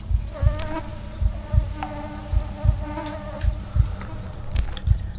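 Close swarm of flies buzzing inside a horror video game, a continuous droning hum pulsing in quick regular surges, loud and alone without talk.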